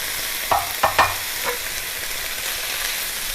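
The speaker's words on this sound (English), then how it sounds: "We will saute it for 2 minutes" Chicken spring roll filling with white pepper, salt and chili flakes sizzles steadily in a pan, with a few scraping stirs near the start over the continuous frying hiss.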